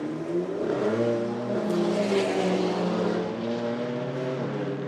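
BMW race cars lapping a circuit during a club race, with several harmonic engine notes sustained and shifting in pitch together as two cars run close, loud and steady throughout with no speech.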